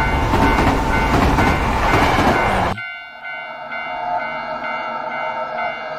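A train in the horror game Tsugunohi roars past loudly, then cuts off abruptly, leaving the steady ringing tones of a railroad crossing bell.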